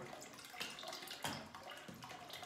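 Water running and leaking in a bathroom, a faint continuous trickle broken by several splashy gushes at irregular intervals, with no one talking.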